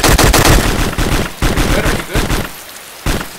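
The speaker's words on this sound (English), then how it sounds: "He hit me a couple times, but I think I shot him." Dense, loud bursts of rapid gunfire crackle through a multiplayer shooter video game firefight, with repeated close shots and short pauses between volleys.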